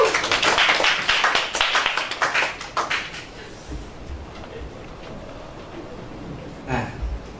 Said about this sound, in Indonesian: Kasih tepuk tangan boleh dong.